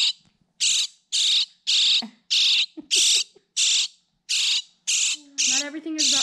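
A rescued baby bird begging for food with loud, harsh squawks repeated in a steady rhythm of about ten bursts, very close, while a person talks softly between calls.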